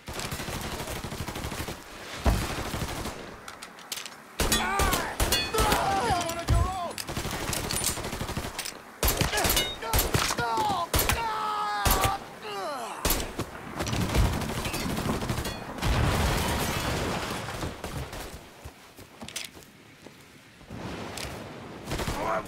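Dense gunfire in the video game Mafia 3, loud sustained bursts of automatic shots and booms with almost no letup, shouted voices mixed in.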